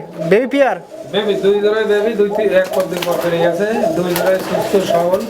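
Pigeons coo at a bustling bird market, the soft throaty calls running through the whole stretch while someone talks loudly over them nearby.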